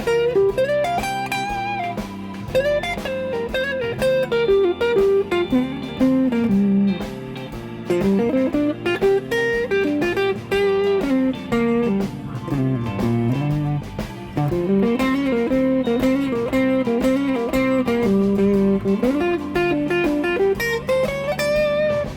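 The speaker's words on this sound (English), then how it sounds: "guitar players tend to fall back on the minor pentatonic scale with the blues" Guitar improvising minor pentatonic licks over a G blues backing, a steady stream of picked notes and phrases with bends riding on top of the rhythm track, moderately loud and continuous with no voices.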